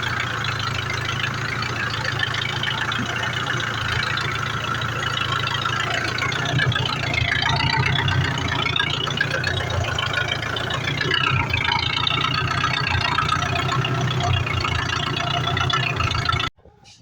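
A heavy tractor engine idles and rumbles steadily at close range for the whole stretch, then cuts off abruptly at the end.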